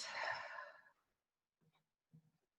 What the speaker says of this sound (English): breathe out of the mouth